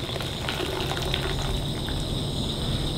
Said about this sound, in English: Give it a rinse and then we'll take her in.